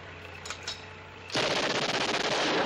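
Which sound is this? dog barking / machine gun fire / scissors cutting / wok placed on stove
machine gun fire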